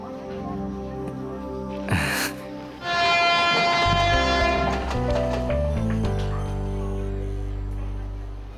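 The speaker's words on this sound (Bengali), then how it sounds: "ট্রেন এসে গেছে" A train pulls into a station, its loud, sustained horn blaring close by over a heavy rumble of wheels and carriages, preceded by a brief burst of breathy noise.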